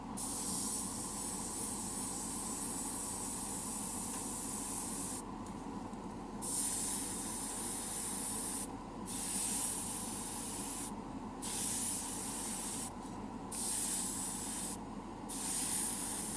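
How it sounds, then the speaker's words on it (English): An Evolution airbrush with a 0.2 nozzle sprays pre-thinned metallic lacquer paint in a steady close hiss, broken by several short pauses as the trigger is released and pressed again. "I'm actually liking this color, the way it sprays."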